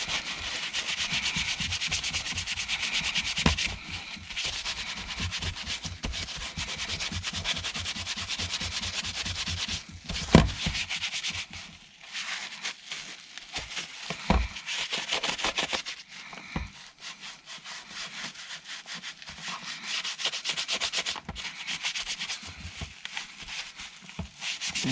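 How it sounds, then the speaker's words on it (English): A Scrubs in a Bucket wipe is scrubbed back and forth across a surface, making a close, rhythmic, abrasive rubbing and scratching with a few brief pauses and clunks. "let's try out the scrubs in a bucket on this side"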